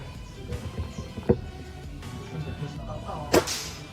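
A wooden-stock FX Crown 500cc PCP air rifle fires at a target outdoors, giving two sharp, brief cracks a couple of seconds apart over a steady ambient hiss.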